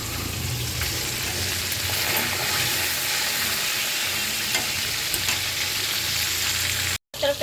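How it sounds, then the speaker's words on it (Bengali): Hilsa fish head frying in a pan on a home stove, giving a steady loud sizzle and crackle of hot oil that runs continuously, with a brief dropout near the end. "আর এখানে ইলিশ মাছের মাথাটা ভাজা হয়ে গেছে"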